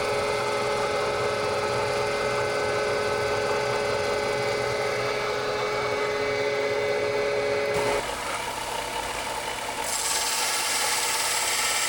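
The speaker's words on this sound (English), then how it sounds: "Need to notch out this piece where it's going to fit around the bumper, and I think I want to try to do that with the end mill." An end mill notches a metal piece meant to fit around an off-road bumper, giving a steady loud grinding cut with a sustained whine that cuts off near the end, leaving a duller machine rumble.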